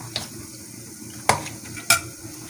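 Marinated chicken meets frying masala in a pot: a low steady sizzle is broken by three sharp scraping clatters of a spoon against the pot, heard up close with no talking.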